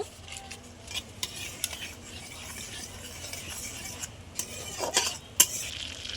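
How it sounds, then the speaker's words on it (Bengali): Black cumin seeds stirred in a pan as a tempering for ridge gourd, a light sizzle under quick scraping and clinking spoon strokes that grow louder toward the end, with no voices. "আমি একটু কালো জিরে ফোড়ন দিয়ে নেড়ে নেবো"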